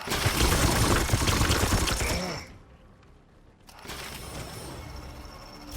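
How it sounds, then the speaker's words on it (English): A dense burst of mechanical clatter and rapid clicks from a video game rapid reload, a brief near-silent gap, then a second metallic reloading rattle. "that's the sound of rapid reload"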